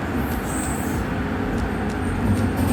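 Subway train running toward a station in Canada, a steady rumbling roll of wheels on track with low droning hum and faint squeaks, heard from inside the car, no talking.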